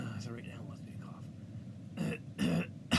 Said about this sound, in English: So right now it wants me to cough.